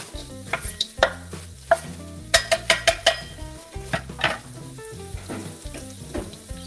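Shallots and chili fry in hot oil, sizzling steadily while a utensil scrapes and clatters against the pan in a quick, irregular rhythm, close and fairly loud.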